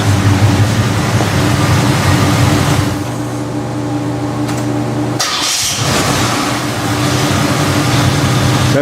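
A car engine after a new one-piece carburetor-to-fuel-pump line and water pump install, idling loud and close with a steady rumble that shifts pitch partway and briefly surges, no talking.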